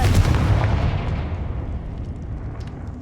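A Confringo fire spell cast in Hogwarts Legacy bursts with a loud, booming blast at the start, then rumbles and fades over a few seconds without any voices.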